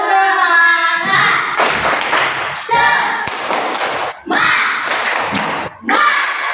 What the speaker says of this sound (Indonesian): Tepuk semangat dulu. Dua, tiga. Tepuk semangat.